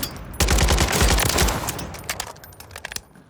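Rapid automatic assault rifle fire in Warzone 3, a loud close sustained burst followed by a few trailing shots and echoing tails.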